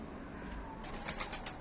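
Soft fluttering wingbeats of young tumbler pigeons, a brief burst of flapping near the end over faint background hum.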